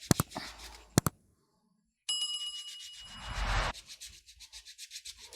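A foot scrubber rasps dead skin off a foot during a pedicure: a few sharp taps, then a sustained close scraping stretch followed by a series of quicker, even rubbing strokes.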